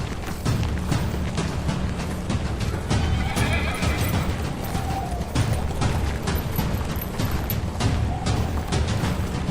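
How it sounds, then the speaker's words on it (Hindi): A horse neighs and hooves clatter in a loud battle scene from the historical drama Kurulus Osman, with a rising whinny amid busy clip-clop, clanking gear and dense action noise. "घोड़ा लेकर आओ।"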